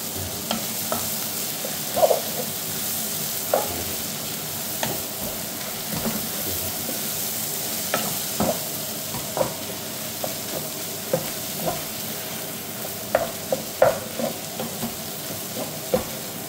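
Seasoned beef being stirred in a hot frying pan, with a steady sizzle and irregular scraping and clinking of the utensil against the pan throughout, close and moderately loud, no talking.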